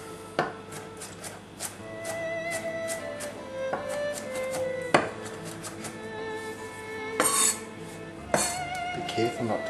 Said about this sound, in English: Now we need to chop this fairly finely.